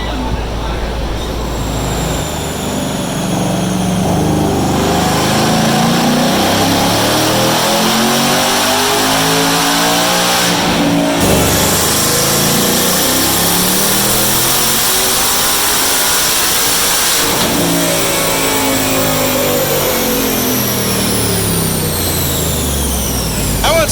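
A tuned 2019 Ford Mustang GT on a dyno revs hard and continuously, a loud, sustained roar with sweeping pitch rises and falls as the engine climbs and drops through its range, with no talking over it.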